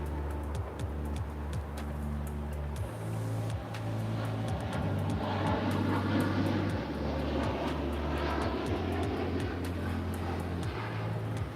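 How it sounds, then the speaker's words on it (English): A United Boeing 787-9 Dreamliner departs for London Heathrow, its jet engines roaring steadily and building to a broad, loud rumble with a deep low tone. "This is United 231 departing to London Heathrow on a 787-9 Dreamliner"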